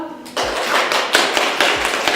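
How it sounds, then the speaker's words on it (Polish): A room full of people applauding at a school history competition award ceremony, bursts of brisk clapping starting abruptly and carrying on unevenly, fairly close and loud. "Jeszcze raz brawa."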